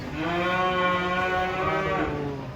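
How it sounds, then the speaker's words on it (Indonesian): A cow at a livestock market gives one long, loud, drawn-out moo close by. Low background noise sits beneath it. "Sekarang berburu sapi unik, sapi ganteng, sapi raksasa ini."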